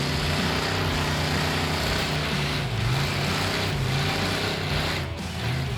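Drag car making a straight-off-the-highway pass on the strip, its engine a loud continuous roar with a low droning tone that climbs and wavers steadily over several seconds, close and unbroken.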